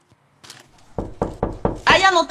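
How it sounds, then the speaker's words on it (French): Knocking on a door comes as four or five firm, evenly spaced knocks, close and distinct, preceded by a soft voice and followed by louder talking. "on tape à la porte."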